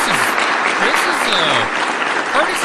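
Applause from a podcast audience responding to a state-of-the-state recap, a steady wash of clapping with voices talking over it throughout.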